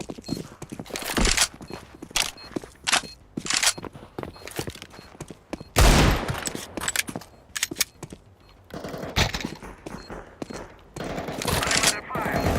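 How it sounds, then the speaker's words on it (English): Rapid bursts of automatic gunfire in a Counter Strike 2 match on the Dust 2 map, dense and loud, come in clustered volleys. Short gaps separate the volleys, and one especially heavy blast lands near the middle. "I'm under fire."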